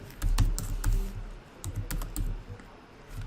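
Fingers type code on a computer keyboard nearby, a quick irregular flurry of sharp key clicks with short pauses between bursts.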